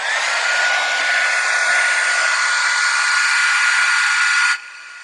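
A heat dryer blows steadily and loudly on a Tim Holtz Distress craft project, a constant broadband whoosh that cuts off near the end and leaves a softer hum.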